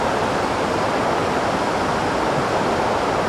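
Constant roaring rush of spray and falling water at Lakkam Waterfalls in Munnar, a loud, dense, unbroken wash of noise with no voices.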